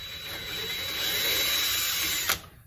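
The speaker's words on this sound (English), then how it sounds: "Just making some pilot holes to get those started in." Power drill boring pilot holes into a narrow wooden board while installing an automatic chicken coop door; a steady high whine runs close and loud for over two seconds, then cuts off with a brief sharp bump.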